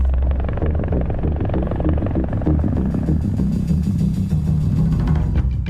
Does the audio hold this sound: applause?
no